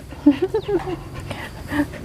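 A dog pants and whimpers close by, with short breathy huffs and soft high whines in a quiet room.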